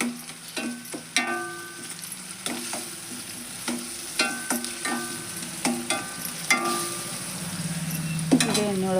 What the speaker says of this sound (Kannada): ಇದನ್ನು ಎಣ್ಣೆ ಒಳಗೆ ಫ್ರೈ ಮಾಡೋಣ